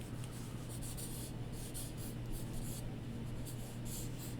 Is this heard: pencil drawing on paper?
yes